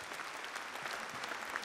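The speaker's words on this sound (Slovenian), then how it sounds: "Dejmo, prosim, en aplavz za Pihalni orkestr Murska Sobota." A crowd applauds a wind orchestra from Murska Sobota, a dense, steady clatter of clapping close by with no talk over it.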